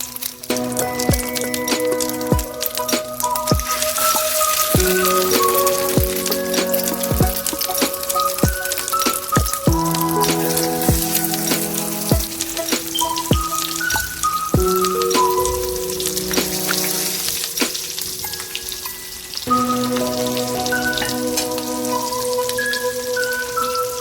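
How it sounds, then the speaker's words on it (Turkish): Kadınbudu köfte meatballs frying in hot oil, a steady crackling sizzle running unbroken throughout, with music playing in the background. "Sonra da yağın içine bırakıyoruz arkadaşlar."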